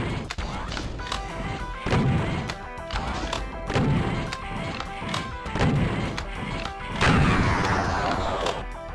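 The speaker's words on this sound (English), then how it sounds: "We'll pull out our super shotgun and get the other." Heavy blasts of the super shotgun in DOOM, loud booming shots repeating roughly every second amid crashing game action and impacts.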